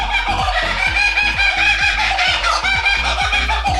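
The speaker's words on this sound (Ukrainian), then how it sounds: "незвичайної пташки Кукабарра, спів якої дуже сильно нагадує сміх людини" A kookaburra's raucous, laughing call rings out close and loud, a rapid string of cackling notes repeating without pause.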